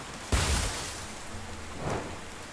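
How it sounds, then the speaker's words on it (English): Steady rain falling in the medieval survival game Medieval Dynasty, a soft continuous hiss with a low thump near the start and a brief swell later, no voices. "Is it raining?"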